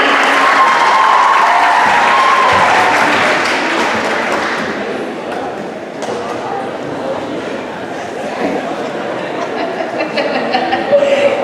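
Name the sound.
crowd applauding Stingrays players at opening ceremony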